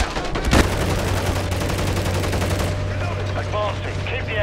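Gunfire in the video game Modern Warfare III comes as a dense burst of rapid automatic shots with one sharp loud crack near the start. The firing then gives way to a low hum and faint voices.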